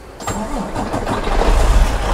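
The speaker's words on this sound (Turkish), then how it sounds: "marşımızı yapacağız" A Mercedes Travego bus engine starting in Euro Truck Simulator 2: a brief starter crank that catches into a loud, steady low diesel rumble close by, with no talk over it.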